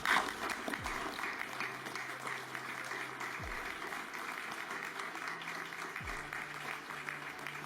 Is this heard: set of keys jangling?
no